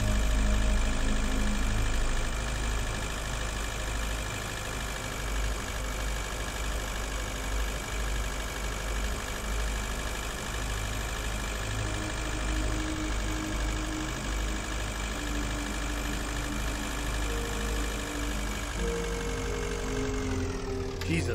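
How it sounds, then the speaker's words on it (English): A car engine idles loudly in the video game Breathedge, a constant dense drone with a low throbbing hum that holds steady for about twenty seconds. "That the car sound is so loud."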